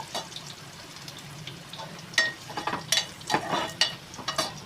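Garlic, ginger and green chillies sauté in oil in a pan for paneer bhurji, a soft sizzle under sharp, repeated scrapes and clinks of a stirring spoon, close and alone without speech.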